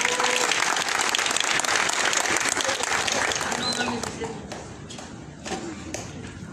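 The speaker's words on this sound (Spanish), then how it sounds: "Vamos a recibirlos con fuertes aplausos." Loud, dense applause from an audience at an outdoor municipal swearing-in ceremony in San Andrés Huaxpaltepec, Oaxaca, sustained for several seconds before tapering off into scattered claps and crowd noise.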